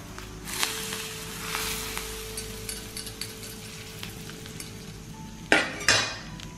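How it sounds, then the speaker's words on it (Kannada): Very hot oil poured into onion bonda batter gives a soft, steady sizzle, followed by loud metallic clinks of a spoon and vessel near the end. "ಸ್ವಲ್ಪ ಎಣ್ಣೆ ಬಿಸಿ ಮಾಡಿ ತುಂಬ ಬಿಸಿ ಬಿಸಿಯಾಗಿ ಹಾಕ್ತಾ ಇದ್ದೀನಿ"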